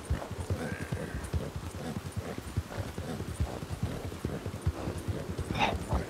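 Horse hooves gallop in a steady, rhythmic clip-clop in the Western video game Red Dead Redemption 2, moderately close, with faint game ambience and no talking.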